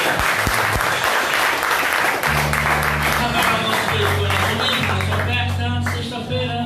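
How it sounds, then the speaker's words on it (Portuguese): A church congregation at a healing service breaks into loud, sustained applause, dense clapping from many hands that holds steady throughout, with voices and a sustained musical tone mixed underneath. "Ergue as mãos e aplaudir."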